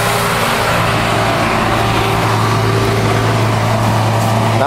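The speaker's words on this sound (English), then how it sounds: "Lots of cars going up and down." Steady road traffic noise, a car's engine and tires rushing past nearby with a continuous broadband whoosh.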